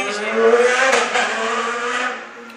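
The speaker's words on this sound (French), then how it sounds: "il y a quelqu'un qui passe en moto" A motorcycle passes on a street: a loud engine drone rises, holds steady for a couple of seconds, then fades as it moves away.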